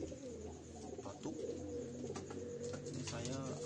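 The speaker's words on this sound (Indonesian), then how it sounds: "kebetulan ada burung yang lagi batuk" Sick pigeon with a cough and cold, giving soft low coos and throaty rasping sounds close up, with someone talking over part of it.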